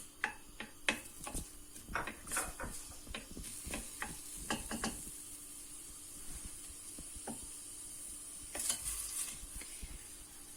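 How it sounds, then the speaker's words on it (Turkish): Onions sizzling in hot oil in a pot for Erzurum-style kesme aşı soup, with scattered sharp clicks and scrapes of stirring, the sizzle settling into a steady hiss. "Soğanlarımızı ekliyoruz. Tam Pembeleşinceye kadar kavuracağız"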